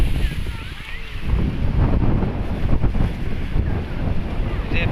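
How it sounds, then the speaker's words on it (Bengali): Strong, gusty wind sweeps across an open village as a storm gathers under clouded skies, roaring steadily with swelling surges and buffeting the microphone, lifting a net nearby. "বাতাসে দেখো এইদিকে আপনার নেট তুলে ফেলতেছে"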